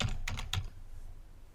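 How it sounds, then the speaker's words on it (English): Quick bursts of typing on a computer keyboard, a few sharp clustered key taps close by and quiet, followed by near silence with a faint room hum. "we could start typing that in"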